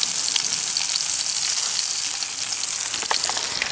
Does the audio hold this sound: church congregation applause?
no